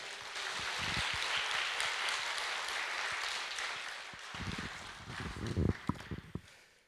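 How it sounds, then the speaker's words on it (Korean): A crowd claps steadily for several seconds, then the clapping thins into scattered, uneven claps before fading. "한번 박수 한번 해주시기 바랍니다"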